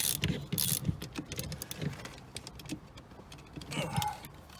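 A steering wheel bolt on a BMW E36 is snugged down during an NRG wheel install, giving a series of light ratcheting clicks and metallic taps, close and fairly quiet, with faint rustling.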